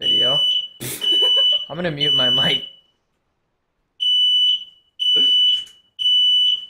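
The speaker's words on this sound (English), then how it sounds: "Uh-oh, fire alarm's going off." A smoke or fire alarm going off indoors, loud piercing repeated beeps in three long bursts with pauses, while someone talks over the first bursts.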